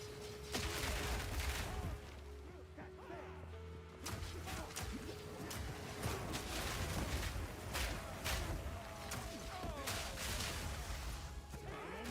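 Grenades explode in rapid succession in a first-person shooter game, a dense chaotic barrage of blasts, cracks and debris that fills the whole stretch with loud overlapping bursts.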